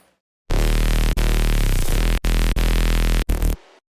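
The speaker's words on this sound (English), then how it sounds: "without the automation of the reverb, it sounds like this." Heavy, distorted bass music synths made in Serum, with no reverb throw automation, blast loud and dry in dense sustained bursts separated by abrupt short gaps, then cut off sharply.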